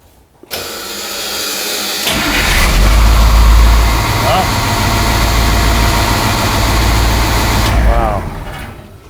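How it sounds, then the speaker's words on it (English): A Caterpillar 3208 V8 diesel truck engine starts up and settles into a loud, steady low rumbling idle for several seconds, then cuts off. Air-brake hiss is heard near the end, and people talk nearby. "Yep, 3208 Caterpillar. You gotta hear it purr."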